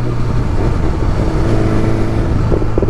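A 2021 BMW S1000RR sport motorcycle converted into a drag bike runs its engine with a loud, dense, constant roar held close up for a few seconds.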